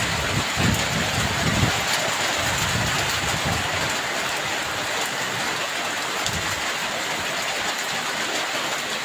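Steady hiss of heavy rain falling on surfaces, continuous and fairly loud, with some low rumbling underneath.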